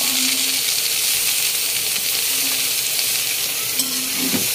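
Vegetables being stir-fried for homemade pancit canton make a steady loud sizzle and hiss in the pan, with a few light scrapes and clinks of stirring and no talking.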